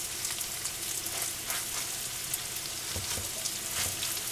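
Salisbury steak patties fry in a skillet with a steady, dense sizzle, broken by occasional crackles and pops, close up and with no voices.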